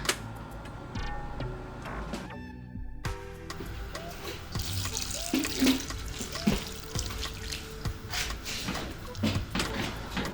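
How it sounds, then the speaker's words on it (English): Water splashes and pours into a pot for making tea, with clinks and metallic knocks, a steady running trickle near the listener amid kitchen clatter. "Now we are going to add more water"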